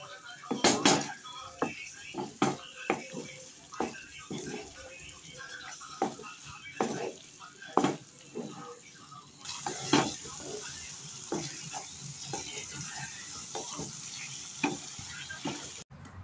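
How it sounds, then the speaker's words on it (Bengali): Mutton liver frying and being stirred with spices in a pan: steady sizzle under repeated sharp scrapes and clinks of a utensil against the pan, fairly close and irregular in rhythm. "মেটে যখন ভালো করে কষানো হয়ে আসবে এই পর্যায়ে দিয়ে দিতে হবে মিট মশলা।"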